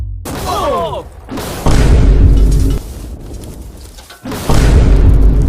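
TNT detonates beside a safe holding an egg, a heavy booming blast followed by a second deep explosion, both loud and close with rumbling tails between them.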